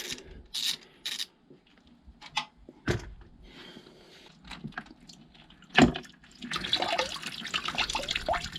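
Coolant drips and trickles in irregular splashes from a Kawasaki Z800 engine casing drain, then pours in a steadier, louder stream toward the end.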